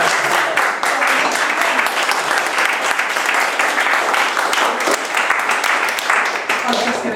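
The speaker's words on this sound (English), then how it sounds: "Final massive round of applause for Tanya, for Antonio, for Anya, for Sophie posting this evening" Loud, dense applause from an audience at a poetry reading, steady and close throughout with no break, with voices mixed into the clapping.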